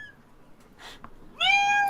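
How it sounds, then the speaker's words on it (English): A cat meows once, a loud drawn-out cry as a sound effect in a tabletop role-playing game set in a bustling city, following a few faint soft clicks and rustles. "That cat attacks you."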